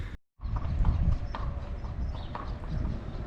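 A horse's hooves clip-clop along a path in a steady rhythm, fairly close and moderately loud, after a brief moment of silence.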